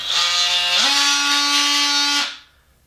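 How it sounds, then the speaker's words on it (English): A handheld oscillating multi-tool with a variable-speed trigger buzzes close and loud, its whine stepping up in pitch as the trigger is squeezed, holding steady, then cutting off and winding down. "So the balance is nice on the oscillating tool. You can go slow and then just speed it up"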